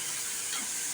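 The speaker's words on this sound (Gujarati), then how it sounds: "ટમેટા વઘારમાં નાખી દીધા." Tomatoes dropped into hot oil tempering for a vegetable curry, giving a steady close-up sizzle and hiss with faint stirring throughout.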